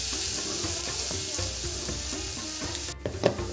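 Onions frying in a pan, a steady close sizzle with scraping and stirring strokes all the way through and a brief clatter near the end, with no talking.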